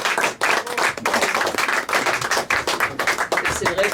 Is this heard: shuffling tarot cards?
no